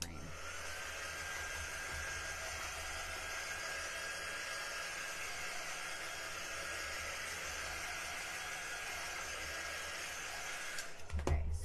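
A hair dryer blows steadily on chalk paste on a craft project, a close, even whooshing hum that holds for about eleven seconds before ending with a brief clunk.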